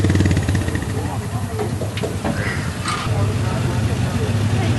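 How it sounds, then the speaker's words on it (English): A wood-fired steam engine runs at an old threshers show, a continuous hissing, chuffing mechanical din with nearby talk over it. "the water is what's going to power the steam engine to turn those belts."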